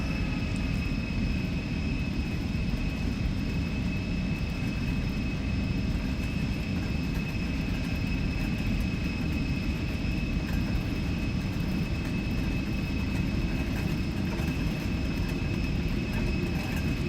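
Twin jet engines of an E175 airliner spool at takeoff thrust in the X-Plane 12 flight simulator, a steady loud roar with a high whine held throughout, unbroken and without voices.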